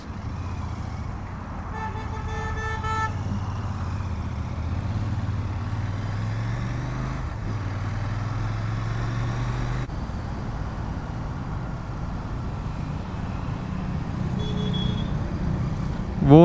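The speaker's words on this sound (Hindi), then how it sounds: "वेट करते हैं थोड़ा सा, ट्रैफिक आ रहा है तेज।" Fast road traffic passing a rider waiting at a roadside U-turn, with a steady engine and tyre roar from vehicles going by, a brief car horn toot early on and another fainter honk near the end.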